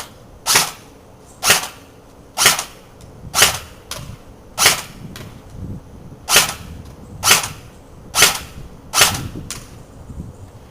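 An ICS M4A1 airsoft gun shoots BBs at a box, about ten loud, crisp single shots spaced roughly a second apart, close and alone, with faint hits between.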